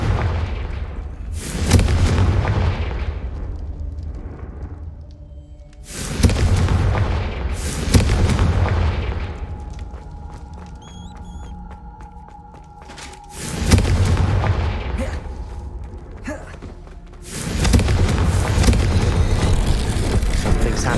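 Heavy booming blasts from the Confringo fire spell in a Harry Potter video game hit in four loud bursts a few seconds apart, each decaying into a rumbling tail, with quieter game effects and music in between.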